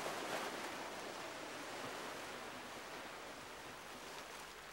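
Soft, steady wash of gentle Caribbean Sea waves lapping on the white sand beach at Rum Point, a continuous hiss without distinct breaks, fairly quiet and even throughout.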